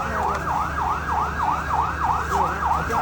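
Fire engine sirens wail near a large fire in Kathmandu, a loud rapid repeating sweep cycling steadily over a low drone of traffic and crowd.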